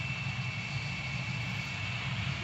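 An F100 jet on the runway in the video game Gunship 3 drones with a steady, even engine roar that holds unchanged at a moderate level, with no voices.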